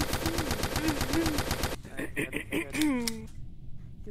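Machine gun fire in a first-person shooter game: a rapid, steady rattle of automatic shots over the first half, then scattered sounds with voices talking over the game audio.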